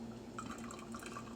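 Hot water is poured into a coffee cup to rinse and preheat it, producing a faint, quiet trickle and drip of liquid against the cup.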